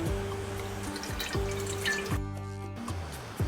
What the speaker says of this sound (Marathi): आता आपल्याला याच कपने चार कप पाणी घ्यायचं आहे